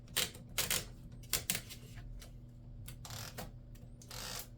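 A 1920s Remington Remette portable typewriter has scratch paper fed into it, giving a few close, sharp mechanical clicks and ratcheting bursts with quieter pauses between.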